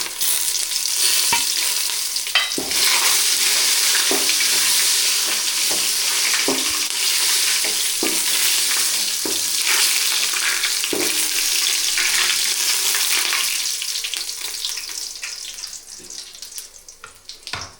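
Cinnamon and whole spices crackle and sizzle in hot oil for a chicken and vegetable curry, a steady close hiss broken by sharp stirring scrapes, tapering off toward the end.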